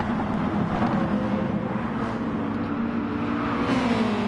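Several racing car engines in a sim racing game at the Kyoto circuit drone steadily and loudly throughout, with a continuous mechanical roar and no talking.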